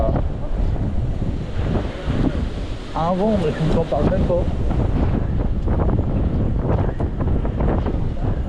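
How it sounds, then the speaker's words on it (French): Strong wind buffets the microphone with a constant roar at Cantallops in Spanish Catalonia, running steadily under a man's brief speech. "Il y a un vent"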